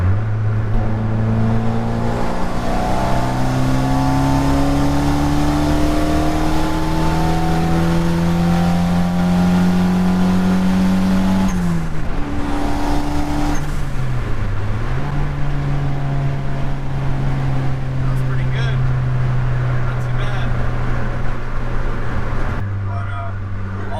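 A turbocharged Honda Accord built with eBay parts accelerates hard through the gears, engine pitch climbing loudly, dropping at a shift, then climbing again, close and continuous.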